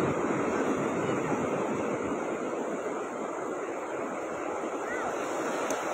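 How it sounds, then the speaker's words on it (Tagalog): Surf at Sabang Beach in Baler, Aurora, Philippines, a steady broadband wash of breaking waves with some wind on the microphone, continuous and fairly loud throughout, no clear speech. "Dami talagang naliligo dito sa Sabang Beach"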